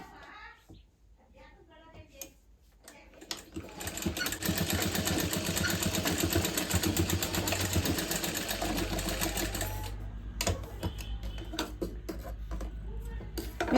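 An electric sewing machine stitches along cloth edges in a steady, fast rattling whir that runs close and loud for several seconds, starting after quiet handling sounds and pausing briefly before resuming.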